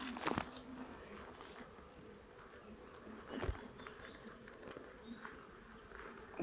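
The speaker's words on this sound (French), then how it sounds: "Alors je vais vous faire un petit gros plan quand même pour vous montrer les abeilles" Honeybees buzzing around an open hive during a colony inspection, a steady soft drone with occasional closer passes, faint and continuous, with no talking.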